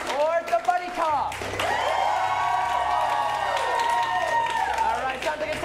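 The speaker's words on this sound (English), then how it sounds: "Cheer the loudest for the film you want to go on" Improv comedy show crowd letting out a loud sustained cheer with yells and whistles, clapping mixed in, swelling after a brief noisy opening and holding steady to the end.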